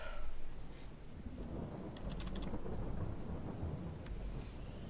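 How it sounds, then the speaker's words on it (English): Steady rain in Farming Simulator 22, a dense broadband wash that holds fairly even throughout, with a faint low rumble underneath and a few brief high tones near the middle. "That's because of the rain."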